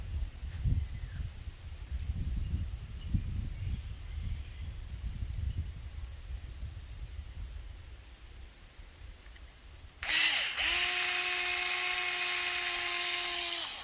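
Small power tool whines steadily near the end while a screw is backed out of an HDX T4E less-lethal home defense shotgun, a loud high-pitched drone following about ten seconds of low rumbling handling noise.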